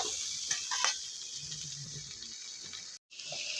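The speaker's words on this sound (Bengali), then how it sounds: "এখানে আমি আলুগুলো ভেজে নিচ্ছি" Large chunks of potato fry in oil for biryani, giving a steady soft sizzle with a few clinks and stirring noises, plus a brief drop to near silence near the end.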